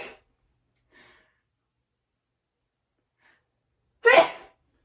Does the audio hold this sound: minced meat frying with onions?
no